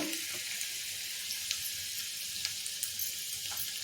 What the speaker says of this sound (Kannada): ಚಿಕ್ಕ ಚಿಕ್ಕ ಅನ್ನಿತ್ತು ಸಾಸಿವೆ ಇದಕ್ಕೆ ಹೆಚ್ಚಿಟ್ಕೊಂಡಿರೋ ಹಸಿಮೆಣಸಿನ್ಕಾಯಿ ಮತ್ತು ಎಳ್ಳು ಹಾಕ್ಕೊಂಡು ಒಳ್ಳೆ ಹಾಕ್ಬಿಡೋಣ